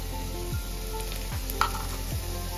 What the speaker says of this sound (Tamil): வெங்காயம் வந்துட்டு நமக்கு ஓரளவுக்கு வதங்கிடுச்சு